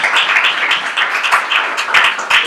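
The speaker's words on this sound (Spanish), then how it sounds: "Muy fuerte aplauso" A church congregation claps loudly and briskly during a sermon, a close, uneven burst of individual hand claps with rhythmic peaks.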